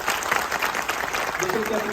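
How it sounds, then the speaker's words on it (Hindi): Lawyers gathered at a large bar association event in Prayagraj clap loudly and continuously, a dense, even roar of applause from a big crowd, with a voice faintly heard underneath. "एक बार जोरदार ताली आदरणीय स्वतंत्र जी के लिए होनी चाहिए"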